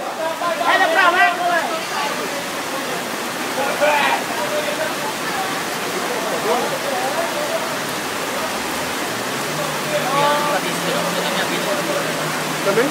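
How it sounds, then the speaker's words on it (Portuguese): Steady broadband rush of a rain-flooded river fills the scene, with people talking intermittently over it. "tem essa água, tá ouvindo o rio, encheu"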